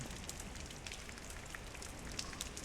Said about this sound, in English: Krot Central Station, rainy night.